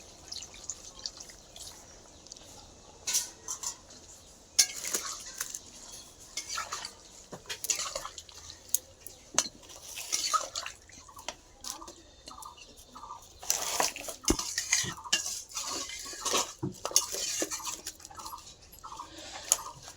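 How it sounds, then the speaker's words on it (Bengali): Water goes into a pan of potatoes cooking on a stove, bringing dripping, splashing and stirring, with spoon clinks and scrapes against metal coming in irregular bursts at close range and no speech. "এবার জল দিয়ে দিলাম"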